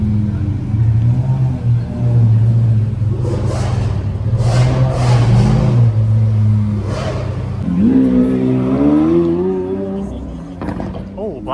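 A group of Lamborghini Aventadors idles with a deep rumble on a Toronto street, then one engine rises in a strong rev before settling, with people talking over the engine noise.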